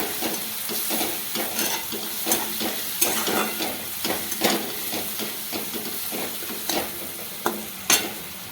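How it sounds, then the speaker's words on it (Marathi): Green chillies fry and get stirred in a pan, a continuous close sizzle broken by repeated scraping and clattering strokes of a spoon against the pan. "हिरवी मिरची कधीही चांगली परतून घ्यायची"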